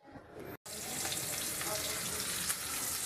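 Garlic and onion drop into hot cooking oil for sarciado, a brief pause then a steady, bright, loud hiss of frying that holds evenly to the end.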